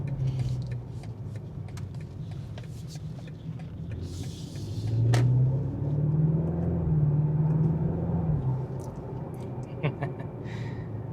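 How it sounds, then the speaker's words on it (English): A 2026 BMW M5 V8 rumbles low while driving on the road, a steady deep drone that swells for a few seconds mid-way and then settles, with a voice talking over it. "Man, the sound of a V8 is just the rumble."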